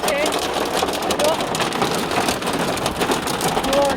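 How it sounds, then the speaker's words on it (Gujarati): Heavy rain in a storm pours down in a dense, constant roar close by, drumming on surfaces without a break, with gusts of wind and a voice speaking over it. "જોરદાર વરસાદ"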